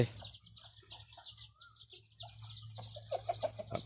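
Native Thai village chickens cluck and chirp softly in a farmyard, with a quick series of louder clucks near the end.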